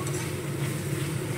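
Potatoes frying with spices in a pan for a banana-flower curry, a steady low sizzle with faint scraping and stirring, heard alone with no talking.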